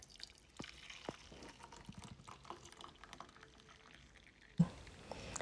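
Strong African tea is poured from a pot into a cup, a faint trickling stream with a few drips. A louder clink comes near the end, and no one speaks.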